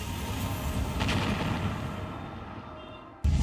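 A loud explosion inside a restaurant, caught on CCTV, sounds as a heavy, rumbling burst of noise that slowly decays. Just before the end a sudden low thump cuts in.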